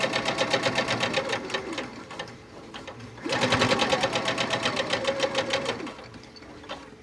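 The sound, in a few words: sewing machine sewing face mask fabric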